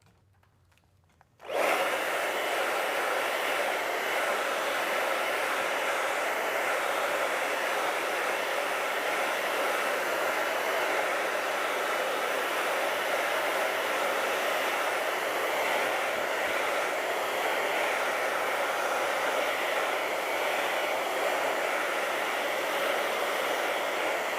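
A hair dryer switches on after a moment of quiet and blows a steady, loud, unbroken whoosh over an acrylic painting for the remaining twenty-odd seconds, with no speech.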